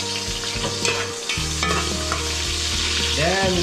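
Chopped onion fries in a pan, sizzling loudly up close while a utensil scrapes and stirs it in uneven strokes, with no voices.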